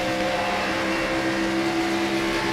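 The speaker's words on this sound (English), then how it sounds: "I can hear the tires screaming out from underneath" Racing car tires in the iRacing game at Fontana scream in a steady high-pitched whine over a constant engine drone, held at an even level throughout.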